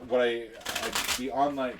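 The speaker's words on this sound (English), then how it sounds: "We're going to go ahead and give this a quick shuffle." A deck of board game cards is shuffled in one quick riffle, close and crisp, with talk just before and after.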